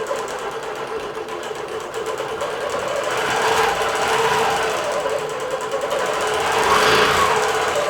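A computerized quilting machine stitches a quilt with a steady, continuous mechanical hum and rapid needle chatter that swells slightly louder midway and holds without pause.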